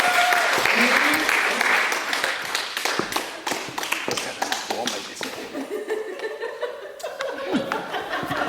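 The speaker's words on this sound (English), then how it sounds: "Give him a big round of applause," An audience claps and laughs for Seamus, the clapping thinning into scattered claps and chuckles, while someone talks over the fading applause.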